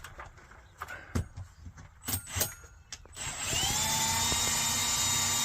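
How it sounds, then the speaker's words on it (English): A power drill bores a hole through an outside wall for an HVAC unit, first in several short sharp bursts, then running in one steady, loud whine to the end. "All right, Matt, let's get that hole drilled up there"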